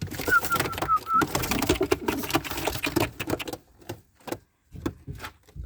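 A newly bought pigeon gives a few soft coos up close amid busy clattering and knocking handling noises that stop and start, then fade into sparse taps near the end.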